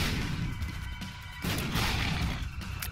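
Bomb explosions in The Binding of Isaac: Afterbirth+, a few dull booming blasts in quick succession over dense, noisy game sound, with no talk.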